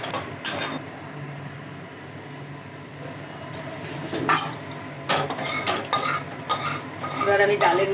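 Dried red chillies and black cumin fry in hot oil in a small kadai as tempering for dal, with a soft sizzle, spoon-stirring scrapes and sharp utensil clinks and crackles that grow busier toward the end.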